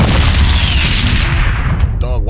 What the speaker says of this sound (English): why was that explosion so epic?